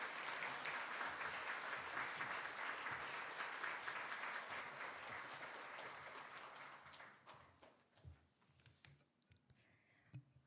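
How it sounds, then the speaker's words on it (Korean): A church congregation at a Sunday worship service applauds warmly to welcome a young woman to the front. The dense, even clapping is fairly quiet and fades out after about seven seconds into near silence with a few stray sounds. "우리 박수로 좀 맞이하겠습니다."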